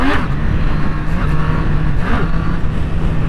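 Sport motorcycle engine, an Aprilia RS 660 or Triumph Street Triple RS ridden in road mode, pulling and accelerating with a steady low drone; close and moderately loud, no speech.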